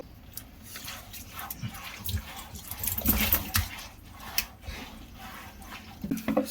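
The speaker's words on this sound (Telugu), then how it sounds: "వాటర్ తీసుకొని దాన్ని మళ్ళీ సేమ్ ఇదే గ్లౌజ్ వాడుకుంటూ దాన్ని క్లీన్ చేయాలి." Water splashes and pours over a long-coated dog being rinsed of shampoo during a bath, in irregular close gushes and drips at moderate volume.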